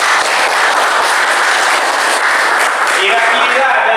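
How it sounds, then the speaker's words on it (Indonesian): A classroom audience applauds at the end of a geography lesson presentation, steady dense clapping filling the whole stretch at close range, with voices murmuring underneath. "Beri tepuk tangan untuk kita semua."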